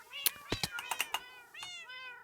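Minecraft cats meowing, several short, close meows in quick succession mixed with light clicky taps, then a longer drawn-out meow at the end.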